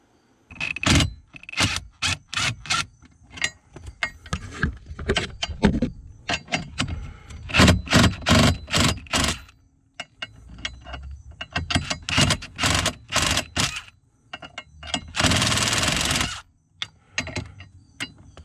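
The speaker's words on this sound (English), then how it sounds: "we're going to use a 15 millimeter socket and remove the two bolts on either side of the Y-shaped plate" A 15 mm socket on a ratchet wrench loosens bolts on a Y-shaped plate during instrument panel removal on a 1990s Corvette, giving repeated loud, rapid ratcheting bursts with pauses and metallic clinks.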